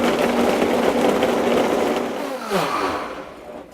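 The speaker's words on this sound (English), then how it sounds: "and then start blending" A blender runs steadily at high speed, loud and alone, blending frozen mango, papaya and pineapple into a smoothie before winding down near the end.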